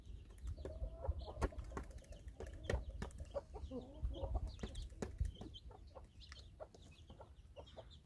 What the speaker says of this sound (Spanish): este es un pollito